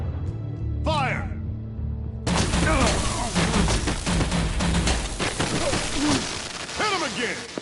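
Gunfire in Batman: The Enemy Within video game, a loud burst of rapid shots and impacts breaking out after a shouted command, continuing amid crashes, shouting voices and dramatic music.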